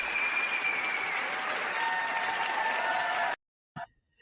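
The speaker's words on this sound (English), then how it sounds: "I wanted to give him a round of applause before we bring up the other feature" Sustained audience applause at a youth and adult summit panel, loud and dense for about three seconds, then cutting off abruptly into near silence with a brief faint sound near the end.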